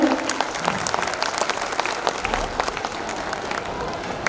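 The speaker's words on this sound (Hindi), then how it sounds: "जोरदार तालियों से इनका स्वागत करें।" An audience at a school annual day celebration breaks into loud, sustained applause to welcome an NGO founder, with dense clapping and some crowd murmur throughout.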